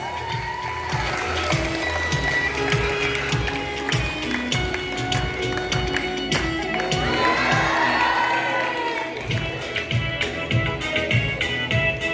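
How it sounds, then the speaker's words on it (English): At a children's fancy dress event featuring Indian national leaders, an audience claps while children cheer and shout, a busy, sustained mix of rhythmic clapping and excited young voices throughout. "Please clap your hands."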